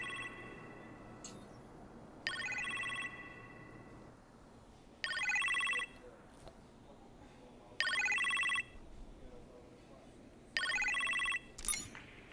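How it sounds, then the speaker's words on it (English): A telephone rings in the kitchen in the Iron Man VR game, four repeated bursts of electronic bell ringing spaced a few seconds apart over a low room hum, with no talking. "You appear to have a phone call in the kitchen,"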